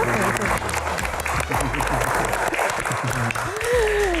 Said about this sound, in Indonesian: tepuk tangan lebih meriah lagi